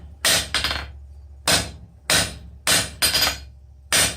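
A blacksmith hammers a hot bar on an anvil to draw down a one-sided taper for a forged ram's head, giving sharp ringing blows in an uneven rhythm, about seven strikes, loud and close, with no talk.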